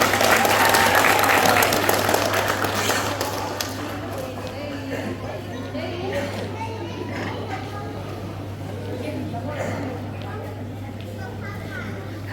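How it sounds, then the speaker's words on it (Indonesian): Audience applause at a National Children's Day event in Konsel, loud crowd clapping at first that fades to scattered claps, with voices and children's chatter continuing underneath. "Sekali lagi kita beri tepuk tangan yang meriah."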